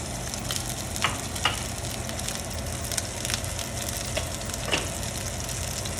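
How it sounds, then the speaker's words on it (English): Butter melting and swirled through a hot pan sauce for filet steak, a steady close sizzle with soft crackles and occasional scraping ticks, no voices. "On the sauce, I am going to swirl a little butter in there."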